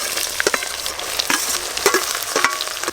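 Chopped onion with whole cumin frying in fresh mustard oil hisses loudly and steadily, while a spatula stirs and scrapes the pan in quick, irregular knocks, close up and with no voices.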